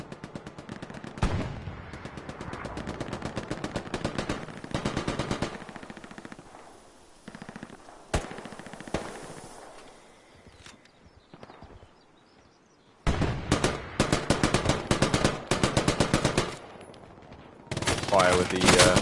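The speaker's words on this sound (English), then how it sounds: "Fire with the Russian LMG is really good." Rapid automatic fire from a Russian light machine gun in the PS5 war game Hell Let Loose, long loud bursts broken by a quieter gap and then resuming in dense, close rattling volleys.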